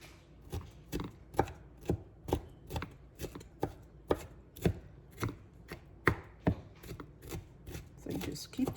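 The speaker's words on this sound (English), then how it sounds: "So you just keep chopping till you get it in really tiny, small pieces." A knife chops store-bought cilantro on a cutting board in steady, evenly spaced sharp strikes, close and crisp, roughly two per second without pause.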